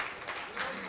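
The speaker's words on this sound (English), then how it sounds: "since you are in the mood of clapping your hands" Brief, faint applause from a dinner audience at a Thanksgiving/Christmas turkey dinner, with a voice talking alongside it.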